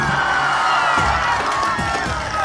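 A crowd at a Telugu Desam Party political rally cheers and shouts in a loud, continuous roar, a dense mass of voices with no distinct pauses.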